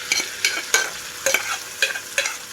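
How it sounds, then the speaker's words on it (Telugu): Cooked lentils are stirred into fried onions for drumstick-leaf dal, producing about seven sharp, rhythmic scraping strokes of a spoon against the pan over a faint sizzle, close up and without speech. "ఉడికించుకున్న పప్పు అంతా వేసేస్తున్నాను."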